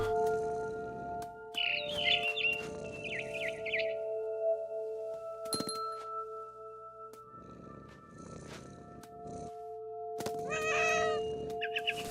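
A cat meowing and chirping in the video game What Remains of Edith Finch, several short high calls standing out over a steady ambient hum and soft game sounds, with no talking.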